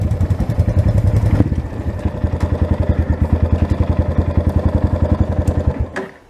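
Motorcycle engine, a rider's own bike on a muddy trail ride, running loud and close with a steady pulsing throb for about six seconds before cutting off abruptly.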